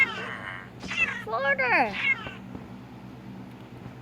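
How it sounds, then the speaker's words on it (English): Cats in a cat-raid video game meow a few times with rising and falling cries, heard over steady low background music while a person talks. "Oh my god, the big cat!"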